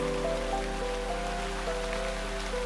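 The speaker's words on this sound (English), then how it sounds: "It's always raining here in Lightbringer Isle." Steady rain falls on Lightbringer Isle in the game Shroud of the Avatar, a constant soft patter with tonal game music humming underneath and no talking.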